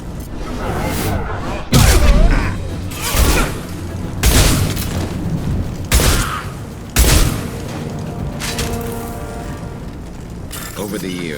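Blue Suns mercenaries and Vorcha firing in Mass Effect 2, heavy booming shots in repeated bursts with steady background din, loud and close.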